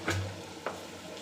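Chicken with chopped large onion sautéing in oil for a chicken gravy, a soft, faint sizzle broken by two brief spoon-stirring scrapes, close, with no talk.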